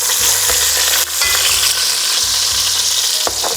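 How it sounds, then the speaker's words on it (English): Onion sizzling and frying in hot oil in a pan, with a steady loud crackle and a few stirring scrapes while onions and garlic are sautéed for a Korean suyuk and bibim-guksu dish. "I'm gonna keep some of it so I can do a quick saute on the onions and garlic"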